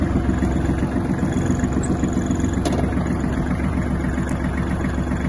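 A Kubota GL-21 mini tractor's diesel engine idles steadily nearby with an even, low chugging rhythm and no breaks.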